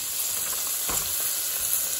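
Tofu scramble sizzling steadily in a hot pan as it gets stirred around like scrambled egg, a continuous crackling fry with a brief scrape of stirring near the middle.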